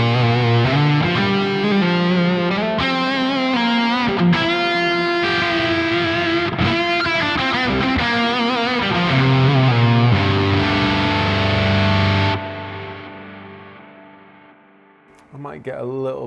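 Electric guitar with a fuzz effect running through a Quad Cortex, played as a loud, sustained distorted passage of chords and notes. It keeps going for about twelve seconds, then fades to a ringing tail, and a short strum follows.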